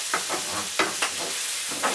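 Mince sizzles loudly in a pan on a stovetop at high heat, a steady close hiss broken by a few scraping stirs, with no talking.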